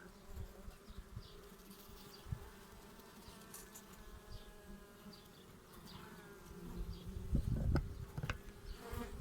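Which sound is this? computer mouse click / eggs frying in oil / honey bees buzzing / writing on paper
honey bees buzzing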